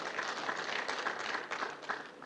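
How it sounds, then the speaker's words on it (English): Applause from the audience at a pension forum in Gombe, a steady wash of clapping that holds throughout at moderate volume, with no pauses. "a big round of applause for her"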